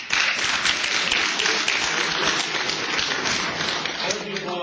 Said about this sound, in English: Hold the applause, please, until the end.